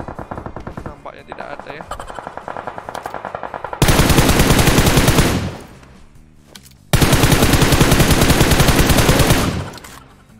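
Sustained automatic gunfire in PUBG Mobile: a rapid rattling burst under a brief spoken line, then two long, loud, close volleys separated by a short lull.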